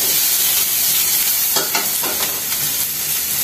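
Onion fries in a pan of potato and brinjal bhaji while a spatula stirs it: a constant close sizzle with several sharp scraping strokes clustered in the middle, and no voices.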